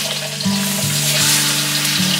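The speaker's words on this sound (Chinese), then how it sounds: "我们先煎一下鱼啊，也是热锅凉油，放两片姜" Yellow croaker fish with a couple of ginger slices fries in oil in a hot pan, producing a close, continuous sizzle with a low repeating hum underneath.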